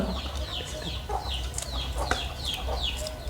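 Chickens cluck and squawk in a busy, overlapping chatter close by, several short calls in quick succession against a low rumbling background.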